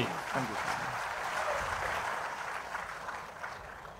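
Audience clapping at a political rally speech by CM Chandrababu Naidu, a steady, dense wash of applause from a large crowd throughout, with a brief voice at the start.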